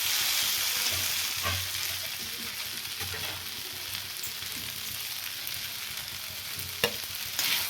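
Veg noodles being stir-fried in a pan, a steady sizzle with scraping and tossing strokes of a spatula, fairly close, with no talk over it.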